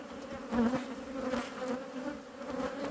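A honeybee colony drones steadily during a hive inspection, a dense close buzz with small swells in loudness and no voices.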